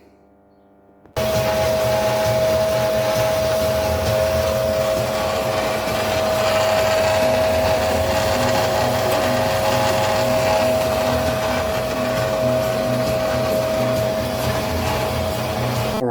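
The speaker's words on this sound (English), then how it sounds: "now we're going to drill a hole with a pilot drill just to get it started" A drill press runs a pilot drill into metal, its motor giving a steady, loud whine with a constant tone. It starts abruptly after a second of quiet and holds unchanged for about fifteen seconds, with no talking.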